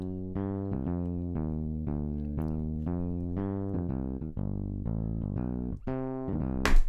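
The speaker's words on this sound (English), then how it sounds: "the walking bass will sound like this" Walking bass line run through soft-clipping distortion in Max/MSP, a steady stream of buzzy, harmonically rich sustained notes stepping in pitch, fairly loud and played alone without talk.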